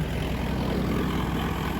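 Tractor engine running steadily in a wheat field during harvest, a continuous loud low rumble with no breaks and no voices.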